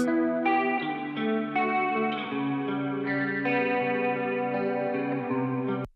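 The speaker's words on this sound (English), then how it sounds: "So that's a Gibson ES325 through a Fender Champ with a Boss CE2 chorus pedal." A Gibson ES-325 electric guitar through a Boss CE-2 chorus pedal into a Fender Champ amp plays a slow sequence of clean, ringing notes with a shimmering chorus effect, each note sustaining into the next before stopping abruptly.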